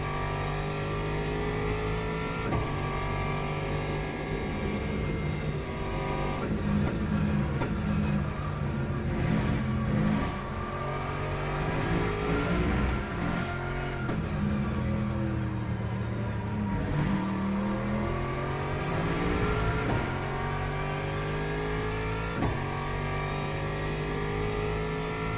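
Race car engine in the sim racing game Le Mans Ultimate, loud and steady throughout, revving up and down through repeated gear shifts with rising and falling pitch, no talk over it.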